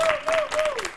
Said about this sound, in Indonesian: Wis, boleh tepuk tangannya dulu dong.